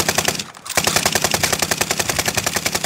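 Sustained automatic weapon fire in a first-person shooter game, a brief gap early on, then steady rapid rattling shots close and loud.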